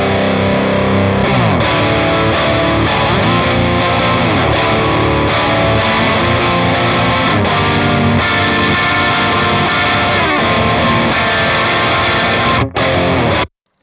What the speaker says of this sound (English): that crunch channel or channel 2 on the Diezel VH4 sounds awesome